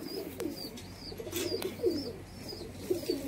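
Giribaz pigeons cooing in a loft, soft repeated throaty coos a few times across the moment, moderately close over faint background noise.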